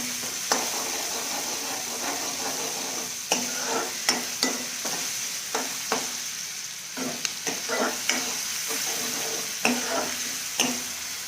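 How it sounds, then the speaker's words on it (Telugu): Onions and green chillies sizzle in a pan for upma while a ladle stirs them, a steady frying hiss punctuated by regular scraping strokes and light knocks against the pan. "మంచిగా అవి గోల్డెన్ బ్రౌన్ కలర్ వచ్చే వరకు వేయించుకోవాలి."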